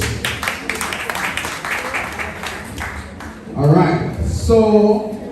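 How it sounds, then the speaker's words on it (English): Brief applause from a symposium audience during medical records week, October 2023, tapering off as a speaker's voice takes over over lingering room noise. "Alright, clap them, please."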